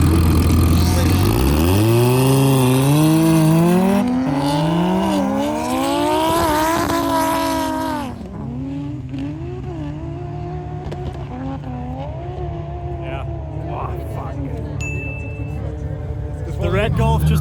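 A high-powered red VW Golf race car climbs a ski slope in a drag race, its engine note rising steeply through the gears and then fading as it pulls away, with a commentator talking over it.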